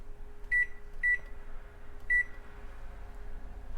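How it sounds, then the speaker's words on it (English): Oven timer gives three short, bright electronic beeps close by as it is set, over a faint steady hum in a quiet kitchen. "I'm gonna put the timer on for 22 minutes."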